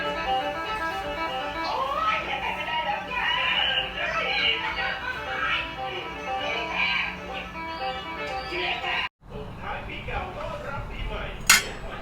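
Metal utensils scrape and clink against a pan while stir-frying garlic in oil, quick and busy, with a steady sizzle and music playing underneath.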